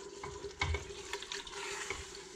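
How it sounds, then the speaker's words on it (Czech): Pork kidneys fry in a pan as they are stirred, a steady sizzle broken by scraping and clinking strokes of the spoon, close and continuous, with no voices. "Furt míchat, až se nic nespálí."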